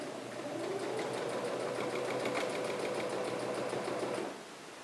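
Sewing machine stitching a T-shirt cuff, a fast steady mechanical whir with rapid needle ticking, loud and close, running continuously and slowing slightly at the very end.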